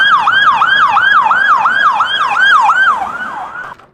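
An ambulance siren wails in a fast repeating up-and-down cycle, loud and close, then fades slightly toward the end.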